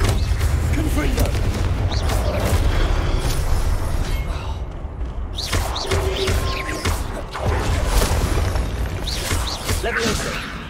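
Blasting spell explosions from Hogwarts Legacy gameplay: a series of loud booming blasts and crackling impacts over a dense, continuous game soundscape with music, several strong bursts spread across the clip.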